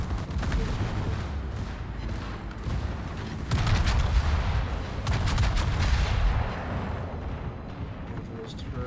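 Naval gunfire in the World of Warships game, heavy booming salvos and rumbling blasts layered over battle noise, with someone talking throughout.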